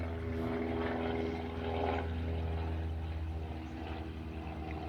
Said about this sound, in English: I'll wait for the plane to go over.